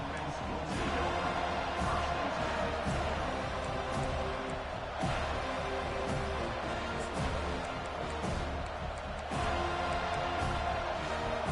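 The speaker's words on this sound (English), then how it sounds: "This crowd bringing an ear-splitting welcome to their visitors" Football stadium crowd at a Florida State college game, a steady, dense roar of cheering that holds loud and unbroken throughout, with a commentator talking over it.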